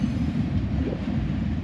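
A CSX freight train passes close by on the railway at Greenwich, a loud, steady rumble of rolling wagons and wheels with no voices.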